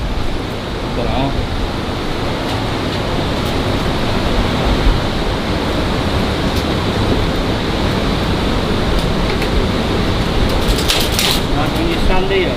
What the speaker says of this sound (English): It sounds like there's a big stream of water behind the wall.